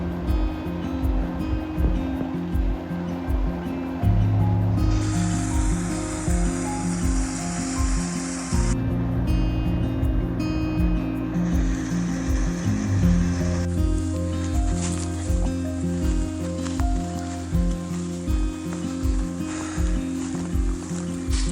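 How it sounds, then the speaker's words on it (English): Partially frozen waterfall at Buttermilk Falls in New Florence, Pennsylvania, with water flowing beneath the ice: a steady, close rushing wash that stays loud throughout. "the way the water's coming underneath it, but it's freezing on the outside of the waterfall, but not on the inside"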